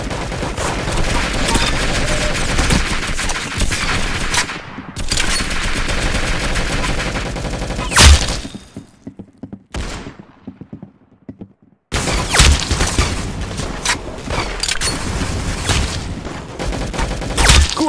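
Rapid bursts of video game gunfire, loud and close, with a sharp break partway through before the shooting resumes.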